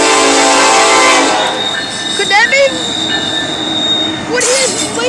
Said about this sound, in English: We have a train here in Elkhart, folks.